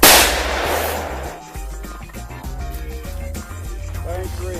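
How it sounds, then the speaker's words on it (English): Sharp reports from a .44 Magnum fired at a bulletproof target, several sudden loud cracks followed by ringing echoes, with a musical backing playing steadily underneath. "taping the actual impact of the 44 Magnum hitting the target"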